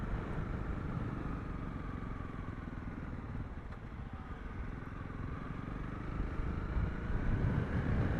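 A Honda CRF 300 Rally motorcycle cruises at around 100 km/h on a road from Worcester toward Leeuwenboschfontein in the Hex River Valley, South Africa, its engine drone blending with a steady, loud wind roar throughout and no talking.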